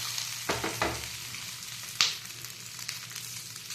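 Stuffed green chillies frying in hot oil as they are stirred, with a few soft scraping clatters and a brief louder knock over a steady low sizzle, fairly quiet and close.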